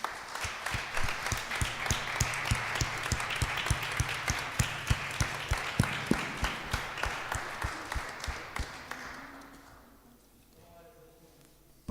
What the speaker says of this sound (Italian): Possiamo fare un applauso al Signore?